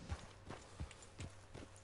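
Horse hooves clip-clop at a steady walking pace in Red Dead Redemption 2, a warped brindle horse's footfalls landing about every 0.4 seconds, soft and fairly close, with no talk over them.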